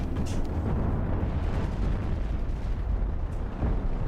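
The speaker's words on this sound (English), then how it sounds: "I want to check these chain guns though and see how they fire." Chain guns firing in the space game Cosmoteer, a dense continuous barrage of heavy booming shots that runs steadily and loud without pause.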